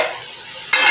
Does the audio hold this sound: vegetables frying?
yes